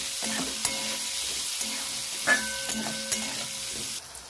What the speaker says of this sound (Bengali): পেঁয়াজটা একটু নেড়ে হালকা ভেজে নেবো